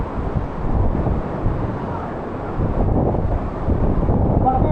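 Strong wind buffets the microphone on a motorcycle ride along an adventure trail to waterfalls in Bukidnon, a steady loud roaring rush that fills the whole clip with no break.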